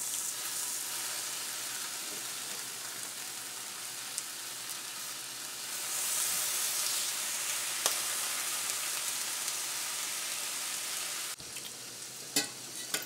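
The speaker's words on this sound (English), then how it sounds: "it should be preheated enough to throw the bacon on our carbon steel as well" Bacon sizzles steadily in preheated stainless steel and carbon steel pans, a dense, continuous crackle that swells slightly midway, with a few sharper pops and a brief clatter near the end; no one speaks.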